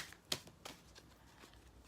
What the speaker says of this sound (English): I'll just sit and shuffle.